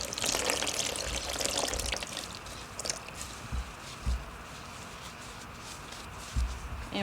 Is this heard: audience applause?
no